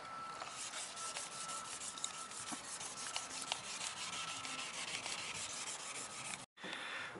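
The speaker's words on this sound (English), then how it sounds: "we're sanding down the last coat of primer now" 800-grit sandpaper rubs over primer on a car bumper in steady, rapid back-and-forth strokes, a close scratchy hiss that continues alone with a brief pause near the end.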